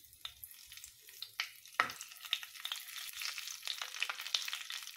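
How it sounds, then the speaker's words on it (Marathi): Stuffed green chillies frying in hot oil, standing upright in the pan, crackling and spitting with bursts of sizzle that build into a denser, continuous fry, close and without talking. "आता तेल गरम झालेलं आहे. यामध्ये आपण ह्या मिरच्या फ्राय करून घेऊया."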